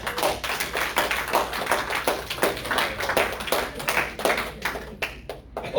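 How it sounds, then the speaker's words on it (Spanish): A church congregation claps in a dense, fairly steady burst of applause that fills the room, then thins out toward the end. "Oye, vamos a darle un aplauso."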